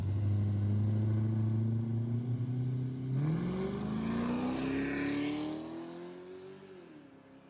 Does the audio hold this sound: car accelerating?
yes